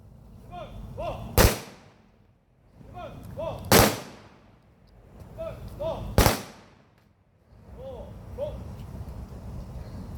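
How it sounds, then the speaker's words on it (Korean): An honor guard fires a rifle volley salute at a memorial ceremony for fallen soldiers at the national cemetery in Dongjak-dong. Three loud, sharp volleys crack at even intervals, with voices murmuring between them. "의장대 조총 발사!"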